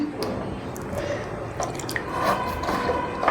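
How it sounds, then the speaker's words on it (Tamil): Water drips and trickles into chapati dough during kneading, a scattering of small close splashes and wet squishes spread unevenly over a few seconds. "இப்போ வந்து நம்ம வேணுன்ற அளவுக்கு வந்து தண்ணி போட்டுக்கலாம்"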